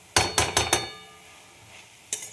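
A spoon clatters against a pan as vegetarian banana flower curry with jaggery is stirred and sautéed: four quick close scraping clinks in a row, a quiet pause with faint background hiss, then one more clink.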